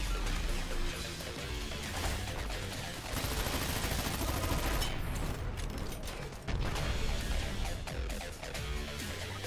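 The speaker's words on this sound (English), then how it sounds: "That's a lot of people shooting me." Dense gunfire from many players converging in a Dirty Bomb match, a constant clatter of rapid shots and mechanical clicks, loud and unbroken throughout.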